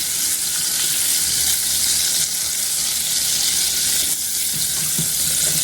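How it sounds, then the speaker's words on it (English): Butter and a little olive oil sizzle loudly and steadily in a skillet, a dense, close, continuous hiss with faint clinks underneath. "add some butter to our skillet. And I'm going to add that along with a little olive oil. Get that butter melting."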